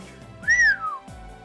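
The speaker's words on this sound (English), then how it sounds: "Whistle, okay." A short whistle from the video game Trails from Zero, a bright two-tone call that rises and then glides downward, heard clearly over a soft game music background with no talk.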